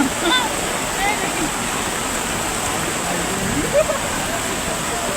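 Floodwater in a planted field overflows with a continuous rushing, splashing wash. A voice briefly speaks faintly in the background.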